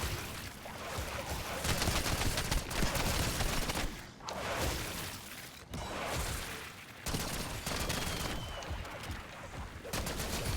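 Rapid sustained gunfire in the Black Ops 6 Zombies video game, dense continuous bursts of automatic shots with brief gaps between volleys, loud and close throughout amid chaotic game noise.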